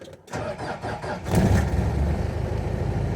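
A 4 litre Isuzu 4BD1 diesel engine cranks briefly after glow plug warm-up, then catches and settles into a loud, steady idle rumble close by, with no talking.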